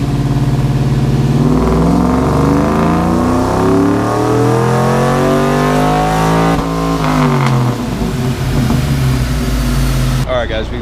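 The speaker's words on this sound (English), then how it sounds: "what Chris is doing right now is running the car in 4th gear to get the ethanol mixed in with the other fuel" A Chevrolet Tahoe with headers, running on E85 fuel, revs loudly on a dyno in fourth gear, its engine note climbing steadily and then falling back as it settles into a rough idle.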